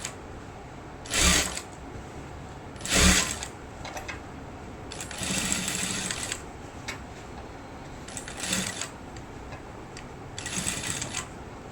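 A sewing machine top-stitching a chudidhar, running in several short whirring bursts with clicking mechanical ticks between them, close and fairly loud with no talk.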